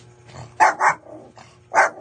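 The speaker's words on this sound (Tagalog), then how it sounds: "Ayun yung aso namin. Gusto nang kumain." A dog barks a few sharp times nearby, short loud yaps with brief pauses between them, over a quiet room.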